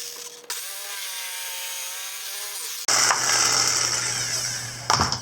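A power saw cuts through a wooden skateboard deck in a workshop, loud and close, with a steady whining pass that shifts to a harsher, higher grind partway through and stops abruptly near the end.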